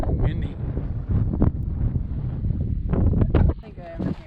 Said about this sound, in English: it's way too cold and windy